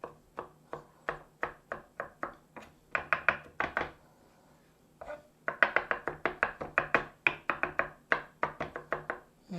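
A knife minces garlic on a cutting board while Greek scallops are being prepared, giving close, rapid, evenly spaced chopping knocks in two bursts separated by a brief pause, with no talking.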